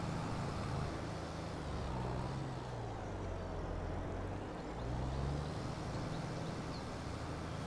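Tractor working a field while spreading lime, a steady low engine drone with slowly shifting pitch, continuous and fairly near throughout, with no talking.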